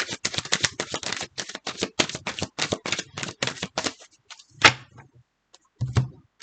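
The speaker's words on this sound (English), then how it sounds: "One more shuffle." Tarot cards shuffled by hand, a rapid run of crisp papery clicks and flutters for about four seconds, then a couple of isolated louder taps and a final short riffle.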